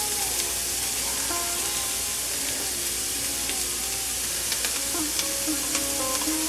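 Garlic fries in a pan for butter chicken with a steady close sizzle, accompanied by occasional soft scrapes and light pops from stirring, and no voices over it.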